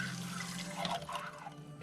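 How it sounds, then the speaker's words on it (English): Empty eggshells slosh and clink in water inside a metal pan, a close, soft trickling and dripping with light knocks as they are moved against each other. "empty eggshells in a metal pan and just water and just moving them around against each other is giving me the creeps"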